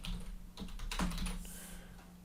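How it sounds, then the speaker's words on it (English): Typing on a computer keyboard, a short run of soft, close key clicks over a steady low hum, with a few sharper taps near the middle. "I just type it up here."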